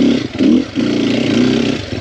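A Sherco 300SEF four-stroke dirt bike engine runs loud and close, with a steady throaty drone that rises briefly in a rev and holds near constant throughout.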